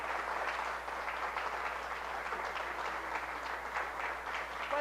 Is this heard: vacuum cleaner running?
no